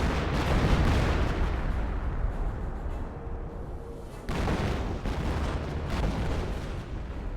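Artillery barrage in the WWII strategy video game Company of Heroes, with dense rumbling booms and blasts rolling continuously, a brief lull partway, then heavy impacts again, with no voices.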